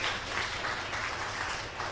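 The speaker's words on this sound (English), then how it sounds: "Yes, applause for that." Congregation applause during a religious education kickoff gathering, a dense, even patter of many hands clapping, fairly soft and sustained with no talking.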